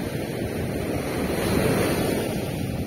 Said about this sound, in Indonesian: Wow. Ombaknya gede banget cuy.